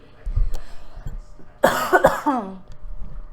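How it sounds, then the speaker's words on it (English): Someone feeling unwell with a sinus illness lets out a harsh, close cough with a throaty rasp, a short burst of two or three hacks amid quiet room noise. "Excuse me if I cough at all or just now."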